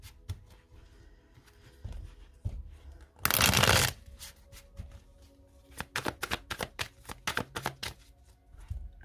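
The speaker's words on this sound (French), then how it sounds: "je vais poser juste ces cartes-là, parce que je vais recouvrir d'un 2e tarot entier." Tarot cards being laid out and shuffled by hand at close range, with a dense burst of riffling partway through followed by a run of quick, crisp card slaps and taps, no talking.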